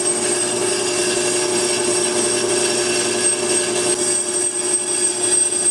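Brake lathe machining a marked brake drum, giving a continuous metallic whine and ringing hum with faint cutting chatter. It holds steady throughout with no talk over it.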